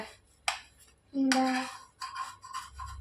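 A metal spoon scrapes and clinks against a pan while loosening a crispy dosa, with a few separate scraping strokes and one sharp ringing clink, close and alone.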